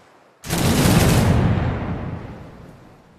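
A machine gun goes off in the video game Caribbean!, one loud, close burst that roars out suddenly, holds for about a second, then trails away in a long fading rumble.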